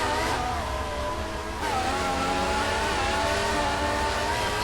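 A race car in a racing video game revs hard coming out of a corner, a loud continuous engine whine with a brief dip, then climbing steadily again, alone without talk.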